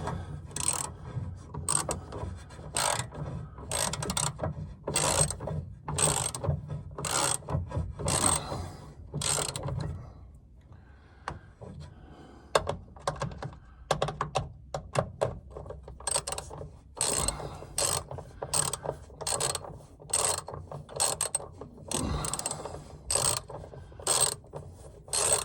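A ratchet clicks in repeated bursts while bolts are tightened on a 2017 Ford 6.7 diesel during an oil and fuel filter change, close up, with short pauses between strokes and no talking.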